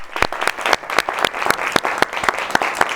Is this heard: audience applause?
yes